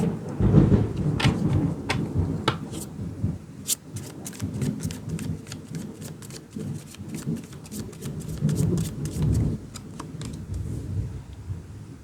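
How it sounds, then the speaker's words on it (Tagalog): Thunder rumbles low and rolling under a dense patter of heavy rain, with sharp crackling bursts scattered throughout. "Lakas ng kulog."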